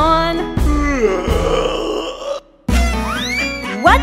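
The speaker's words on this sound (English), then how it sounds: "give a yawn" A long, drawn-out, exaggerated yawn voiced in a preschool action song, a loud sliding groan lasting over two seconds before a brief gap and a return of singing with rising tones.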